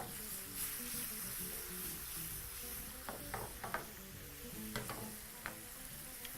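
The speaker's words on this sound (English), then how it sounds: "So we're just going to add about 1/4 cup of stock once more." Stock added to a pan sizzling with mustard, a quiet steady frying hiss with a few sharp crackles and spoon taps clustered in the second half.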